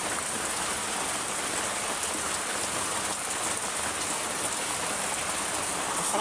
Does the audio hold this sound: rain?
yes